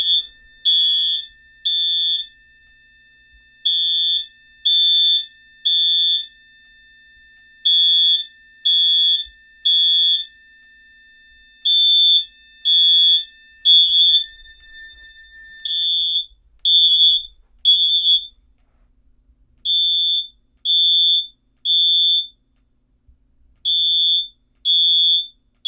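An older fire alarm system's horns sound together after a pull station is pulled, giving loud, high, buzzing blasts in a steady repeating on-off pattern, with a continuous tone running underneath for part of the time.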